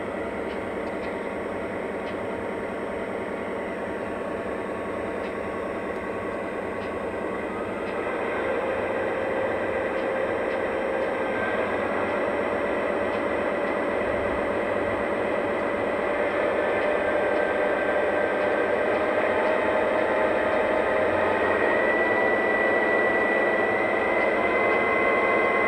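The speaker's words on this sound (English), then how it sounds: "with the legacy locomotives, you get 8 different idle engine RPM levels" A Lionel Union Pacific Dash 9 model locomotive with an SP patch runs its diesel engine sound from idle up through the notches, a steady droning rumble that rises in pitch and loudness in steps, close and unbroken with no voices.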